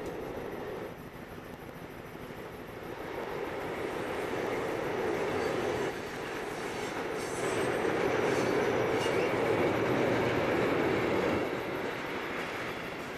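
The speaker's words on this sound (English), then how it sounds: "such as this DB cargo train heading away from Bischofsheim and towards Mainz-Kastel" A DB Cargo wagonload freight train passes on a bridge over the Main between Bischofsheim and Mainz-Kastel, heard as a continuous broad rumble and rolling roar that swells midway and stays steady, with faint wheel squeals and no voices.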